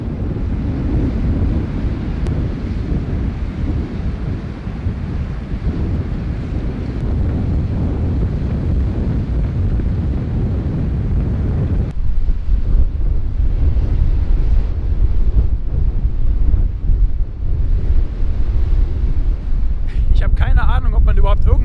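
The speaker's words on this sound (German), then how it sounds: "hier pfeift ein Wind, dass sogar die Kamera auf dem Stativ wackelt" Strong wind roars across a microphone on Iceland's north coast, a loud, continuous buffeting rumble that gusts harder midway, with someone talking through parts of it.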